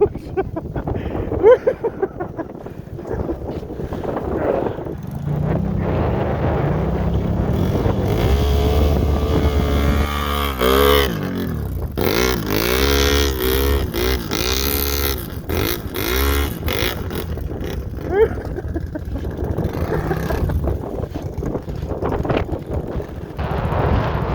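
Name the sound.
wind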